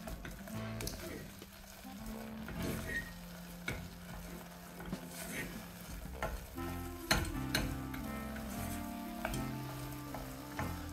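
Choux pastry dough, flour just added to boiling liquid, cooks in a pan while being stirred, giving a soft continuous scraping and light sizzle under quiet background music.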